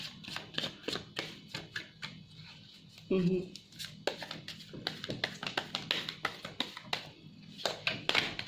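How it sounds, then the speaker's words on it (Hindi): Tarot cards spill and scatter across a table in a quick run of light taps and soft slaps, close and distinct, with a brief fuller shuffle midway. "बहुत सारे कार्ड्स फैल रहे हैं।"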